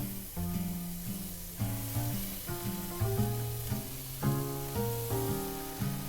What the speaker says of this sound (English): And you want that little sizzle.